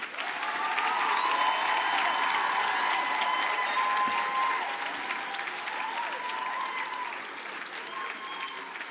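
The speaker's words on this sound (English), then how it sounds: "Can we give them a round of applause?" Sustained applause from a large audience honouring graduates at a university graduation ceremony, steady and full throughout with a slight easing in the second half, a dense wash of many hands clapping in a large hall.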